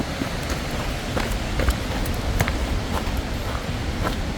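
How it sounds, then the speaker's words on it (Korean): Rushing water of a rain-swollen mountain stream below a waterfall, a steady broadband hiss with scattered splashes, continuous and fairly close, with no voices over it. "물소리 나지?"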